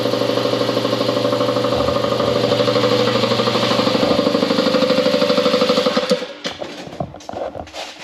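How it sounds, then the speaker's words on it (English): A nearby air compressor runs loudly with a steady pulsing mechanical chug and hum, then winds down after about six seconds into scattered clunks and quieter noise. "that air compressor would come on at the worst possible time"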